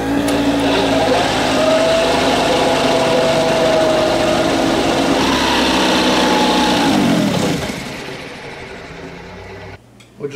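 Atom 80 paramotor engine running near idle after carburetor mixture and idle adjustments, a loud steady buzzing drone that holds for about seven seconds, then sags and winds down toward near silence at the end.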